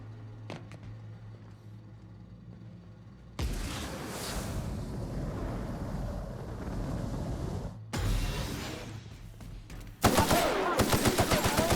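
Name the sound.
gunfire in a video game (The Outer Worlds)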